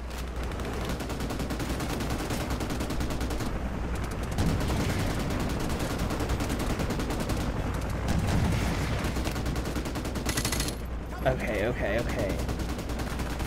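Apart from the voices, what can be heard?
gunfire and artillery in the video game Modern Warfare Remastered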